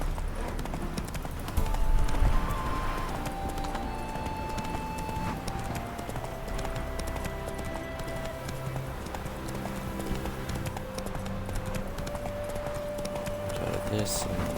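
The horse Roach gallops in The Witcher 3, a steady clip-clop of hooves running under game music and ambience, with a brief louder burst early on and a voice speaking.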